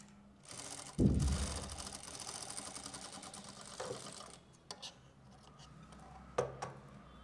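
A sewing machine runs in a fast mechanical patter while stitching right along the edge of a zip on bellbottom trousers, heard quietly in short bursts with small clicks and handling noises between runs.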